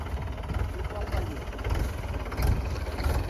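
A Mahindra 885 DI tractor engine idles steadily with a low, continuous rumble close by on a farm, while people talk over it.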